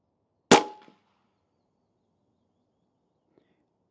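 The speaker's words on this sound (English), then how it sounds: "Now we're going to put 5 shots downrange using the 44 grain slugs." An FX Maverick air rifle fires a 44 grain slug once, a sharp loud crack that dies away within half a second, followed by near silence and a faint tick later.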